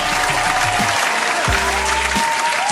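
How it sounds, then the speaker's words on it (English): Steady, dense applause from a crowd on a morning talk show, a continuous wash of clapping at close range with faint low musical tones underneath. "Let's clap it up for her."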